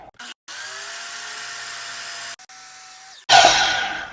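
A saw is set to a 60-degree angle to cut a one-inch wood piece: a high, steady motor whine speeds up after short starts and stops, then a loud, harsh burst of blade cutting through wood.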